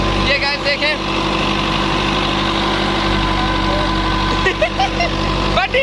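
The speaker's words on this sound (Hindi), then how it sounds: "मतलब ये हमारा ही ट्रैक्टर और थ्रेशर है" A farm tractor runs a threshing machine with a steady, loud mechanical drone and rumble throughout, with no pauses. Faint voices and higher-pitched tones come through in places.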